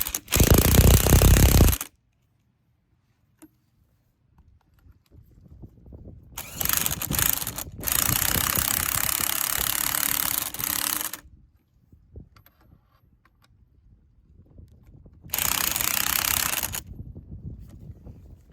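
A pneumatic impact wrench hammers at a strut nut held in a spring compressor on a 2004-2013 Mazda3 front strut, in loud close bursts separated by quiet gaps and workshop clatter.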